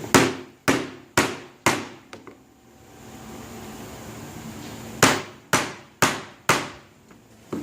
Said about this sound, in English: I'm going to use my smaller ball peen on this one. And I'm going to sit it right here again, and I'm just going to hit it.